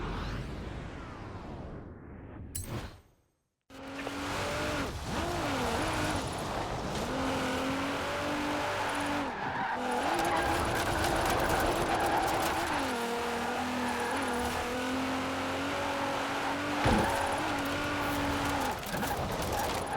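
A car engine races in the driving game Forza Horizon 4, its tone climbing and dropping through repeated gear shifts and drift turns. The engine is loud and continuous apart from a brief cut near the start, with tire and wind noise around it.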